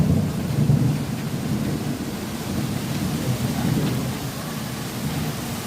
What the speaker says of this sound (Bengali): আপনারা হয়তো বৃষ্টির আওয়াজ শুনতে পাতা